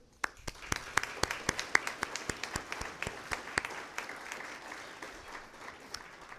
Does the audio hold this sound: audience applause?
yes